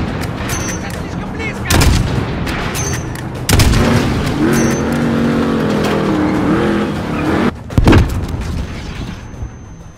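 A car bomb speeding in during a Call of Duty Modern Warfare battle: a revving, whining engine draws near amid sharp gunshots and booms, with a brief shout from a voice.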